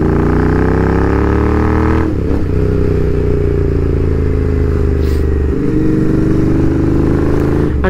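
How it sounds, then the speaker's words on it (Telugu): A small-capacity GT motorcycle drones steadily and loudly while being ridden, its exhaust giving a couple of brief popping bangs over the constant engine noise. "మధ్యలో పట్ పట్ అని వస్తుంది కదా, అది మైక్ ఇష్యూ కాదు, నా బండిది పాప్సన్ బ్యాంక్స్ ఇష్యూ అనమాట"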